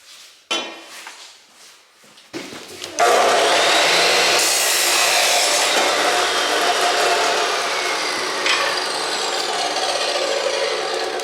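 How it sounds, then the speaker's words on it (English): Half-inch steel rebar is cut into one-foot pieces, with a few brief clanks and scrapes and then a long, loud, steady cutting whine. "we have to cut up 32 feet in 1 foot pieces of this 1/2 inch rebar for the cross sections"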